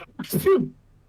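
A single sharp sneeze bursts out close to the microphone, then quiet follows.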